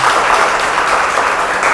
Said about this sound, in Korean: 오늘 재미있는 강연 들려주신 교수님께 다시 한번 큰 박수 부탁드립니다.